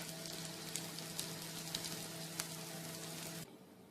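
Shami kababs fry in a pan with a steady, fairly quiet sizzle and a few crackling pops, and the sizzle drops off abruptly near the end.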